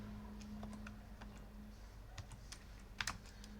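Code being typed on a computer keyboard, a quiet run of irregular clicking keystrokes over a low steady hum, growing denser near the end.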